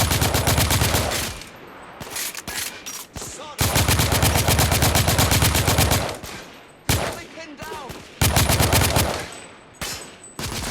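Loud automatic gunfire in The Order: 1886 roars in long sustained bursts separated by short pauses, close and dominant, with brief shouts between volleys.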